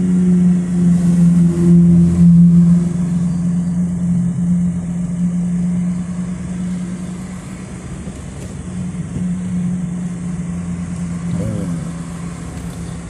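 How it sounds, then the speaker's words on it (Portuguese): Vehicle traffic on highway SP-294 near Pompéia, São Paulo, forms a steady, loud engine drone close by that stays continuous throughout, easing slightly in the middle. "Esperar agora, tá, o fluxo de veículo aumentou"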